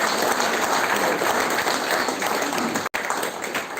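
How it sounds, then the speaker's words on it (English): A gathering at the RIVER Puducherry event applauds Team River, steady dense clapping from a large crowd throughout, with a momentary dropout near the end. "I request the August gathering to give a big round of applause to our Team"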